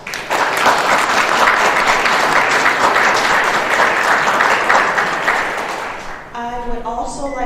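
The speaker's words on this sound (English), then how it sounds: "let's all give them a round of applause" A round of applause from an audience at a data conference panel, dense and sustained for several seconds before fading out as a voice begins speaking.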